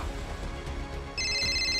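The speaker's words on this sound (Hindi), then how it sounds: "थोड़ी दूर पहुंचकर उसका फोन बजने लगा।" A mobile phone ringtone starts abruptly partway through, a bright repeating electronic tone over a low ambient background.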